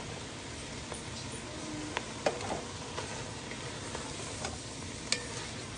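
Italian sausage, ground beef and venison sausage frying in a pan, a steady close sizzle with occasional soft scrapes and ticks as the meat is stirred, no talking.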